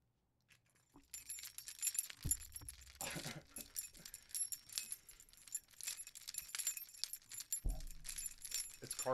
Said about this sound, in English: I have car keys for you.